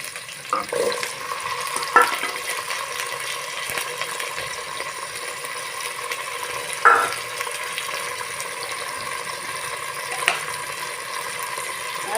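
Potato, pointed gourd and chopped onion frying in oil in a pan: a soft, steady sizzle with a few brief clinks and stirring scrapes, heard alone at close range.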